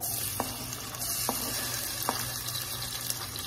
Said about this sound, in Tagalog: Pag nalagay na po natin yung mantika, i-next na po natin yung onion.